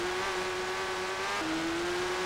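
A racing motorcycle on an Isle of Man TT lap holds a steady, high engine drone that drops slightly in pitch partway through as the throttle eases, loud and continuous, with no talk.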